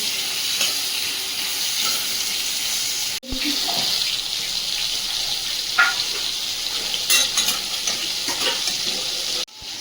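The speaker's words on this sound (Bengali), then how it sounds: "মাছের মাথাগুলো আগে ভেজে নেব, আর ওদিকে আলু ভাজা চাপিয়ে দিয়েছি মাংসের জন্য" Fish heads and potatoes sizzle and crackle steadily in a hot pan, with faint clinks of stirring and a brief break partway through.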